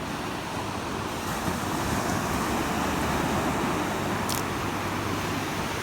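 Ocean waves break and wash up on a beach where people have gone to toss clams back into the water, a steady continuous surf roar with wind buffeting the microphone throughout, with no one talking.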